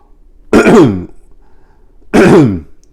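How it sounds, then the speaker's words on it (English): Two harsh, throaty coughs about a second and a half apart, loud and close, with near silence between them. "this cough is getting on my nerves"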